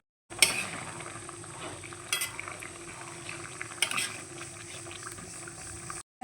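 Vegetables simmer in a pot of water, giving a steady, soft bubbling hiss broken by a few sharp clinks of a utensil against the pot.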